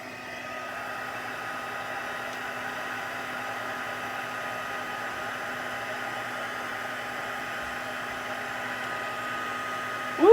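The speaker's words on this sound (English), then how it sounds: "it needs to dry first before we use the heat tool" An embossing heat gun blows hot air over puff paint in a steady, even whirring hum that runs the whole time, fairly close, with a brief louder bump at the very end.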